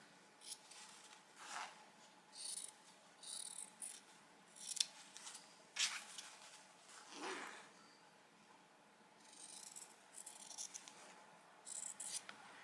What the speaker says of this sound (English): I'll just go ahead and cut on that line.